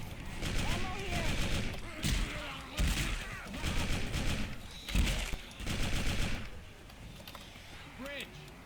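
Video game gunfire crackles in sustained bursts of rapid shots, loud and close, as several people talk and shout over it.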